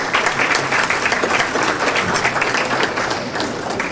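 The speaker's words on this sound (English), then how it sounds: "So just give Chartwell a round of applause." Loud, close applause at a school district Hall of Fame dinner, thanking the food supplier Chartwell: a dense crowd of hands clapping steadily that tapers slightly near the end.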